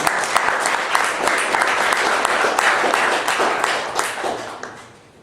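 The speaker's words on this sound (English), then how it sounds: "Let's give a round of applause." An audience at a university talk on investing, poverty capitalism and the developing world breaks into sustained, lively applause of many hands, fairly close, then tapers off at the end.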